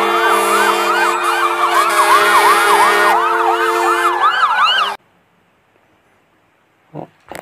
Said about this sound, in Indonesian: Wow, ini ada mobil truk pemadam kebakaran.